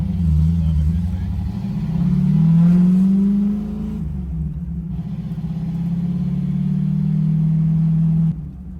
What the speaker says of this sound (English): I feel like the engine is running better now